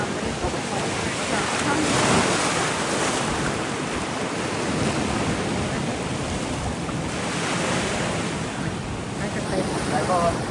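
Ocean surf washes continuously onto a Kauai shore in Hawaii, a loud, broad roar of breaking waves mixed with buffeting wind noise against the microphone.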